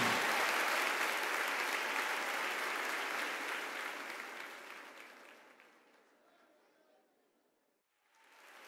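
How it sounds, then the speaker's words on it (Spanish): A church festival audience applauds to welcome a Christian string duo or trio, a loud sustained burst of clapping and crowd noise that gradually fades to near silence before a voice begins. "Recibamos con un fuerte aplauso a estos siervos del Señor"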